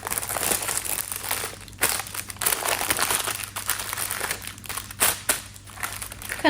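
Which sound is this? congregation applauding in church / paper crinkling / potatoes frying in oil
paper crinkling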